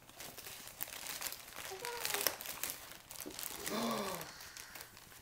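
Christmas present wrapping paper torn open in bursts of crinkling and ripping at a family holiday gathering, close and fairly loud, with voices talking alongside.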